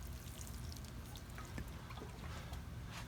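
Liquid fertilizer is poured over succulent plants in a garden as a foliar watering, a faint, steady trickle and patter of water running continuously over leaves and soil.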